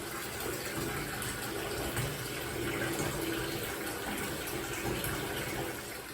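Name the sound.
bath water running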